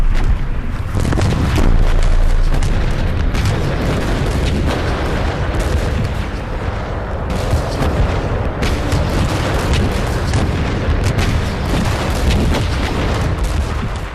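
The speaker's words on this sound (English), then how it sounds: "Sergeant Tawney witnessed the final frenzied bombardment of the German line" Artillery bombardment of the German line at the Battle of the Somme: a dense, loud, continuous roar of overlapping booms and blasts with no pauses, heavy low rumble throughout.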